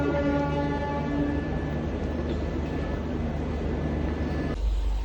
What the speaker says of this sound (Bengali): মাত্র ট্রেনটা ঢুকলো সরাইঘাট এক্সপ্রেস আর এখন ট্রেনে উঠছি।